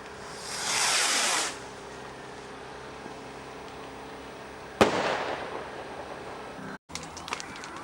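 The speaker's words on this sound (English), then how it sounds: "another bonfire and firework display" Fireworks at a bonfire night display at Simfremore Allotments: a long hissing, crackling burst near the start, then a sharp loud bang followed by a fading rumble and scattered crackles, with quiet outdoor ambience between.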